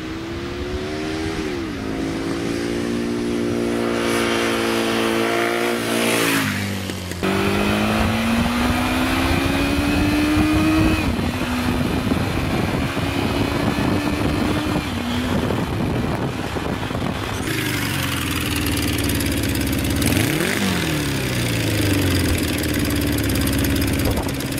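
A cafe racer motorcycle engine runs steadily and close by, its idle rising and falling with a few revs, with a brief pause near seven seconds and a throttle blip toward the end.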